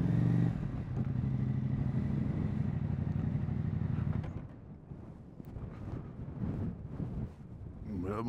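Motorcycle engine idling steadily and loudly for about four seconds, then fading into lower rumble with wind buffeting and clatter as people talk nearby while the bike is moved up on a climb to the Col du Galibier.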